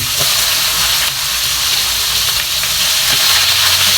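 Garlic and onion sizzle steadily in hot oil in a pan as Filipino adobo sa asin cooks, with a loud, continuous frying hiss and a few soft clinks of stirring, no voices.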